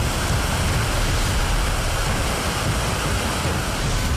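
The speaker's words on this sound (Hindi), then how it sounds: "धर्मशाला के पास गजगढ़ में पानी किसी बड़ी नदी की तरह बह रहा है।" Floodwater surging like a large river at Gajgarh near Dharamshala during monsoon flooding, a loud, dense, unbroken roar that holds steady and close throughout, with no voices.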